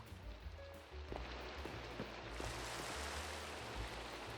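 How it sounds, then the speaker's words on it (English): Rain patters steadily in the Minecraft video game, a soft continuous hiss with scattered faint drops and low thumps, quiet and alone. "Oh, it's raining. I love that."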